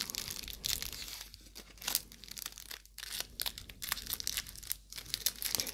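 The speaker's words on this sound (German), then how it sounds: "also der Kampf mit dem Tesafilm, wenn ihr den live verfolgen wollt" Sticky tape pulled and torn off a nearly empty tape dispenser, with a series of crackling rips and crinkly bursts coming in uneven spurts, close up and with no talking.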